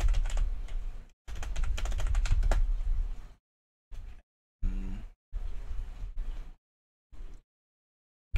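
Someone types a search on a computer keyboard, close by, in rapid bursts of clicking keys separated by short pauses.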